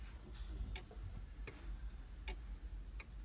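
A clock that opens ticks quietly in a home, with sharp isolated ticks spaced about three quarters of a second apart over a low background rumble.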